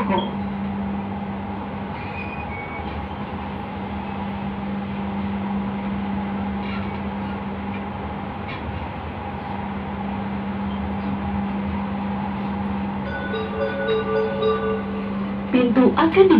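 An LRT train arriving at Cikoko station, heard from inside as a steady, loud rumble with a constant droning hum that runs the whole way, with faint squeals near the end as it slows.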